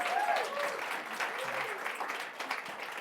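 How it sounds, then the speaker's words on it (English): An audience claps for Chip Conley at an evening talk event, a modest, fairly quiet round of applause with a brief cheer near the start, fading slightly toward the end. "let's give another round of applause to Chip"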